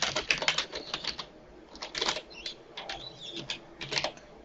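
Keys clack on a computer keyboard as a domain name is typed, quick close bursts of tapping separated by short pauses, quiet and with no voices.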